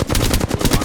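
Rapid automatic gunfire in the video game Apex Legends, a loud, dense burst of closely spaced shots filling the whole moment with no pause.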